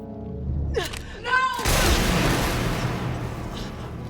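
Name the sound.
gunshots from the film Avengers: Endgame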